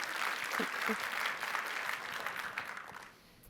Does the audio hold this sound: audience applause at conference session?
yes